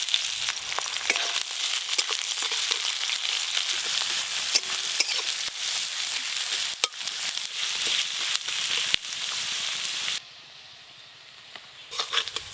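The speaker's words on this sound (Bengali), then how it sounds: "এবার 1 বাটি পেঁয়াজ কুচি দিয়ে দেব।" Chopped onions fry in oil tempered with whole garam masala, a steady, dense sizzle that crackles without a break and eases slightly near the end.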